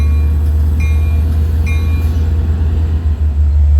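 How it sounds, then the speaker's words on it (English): A long-distance passenger train from New York to Montauk passing at night in the rain, a loud steady low rumble of rolling cars and wheels that stays constant throughout, with faint higher squeals and ringing tones above. "Here's train 2714. New York to Montauk"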